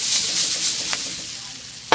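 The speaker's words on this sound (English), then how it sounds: "Onions are becoming caramelized." Onions caramelizing in a pan over medium-low heat for a spicy tomato basil soup, a soft steady sizzle with two brief stirring scrapes, close up and without talk.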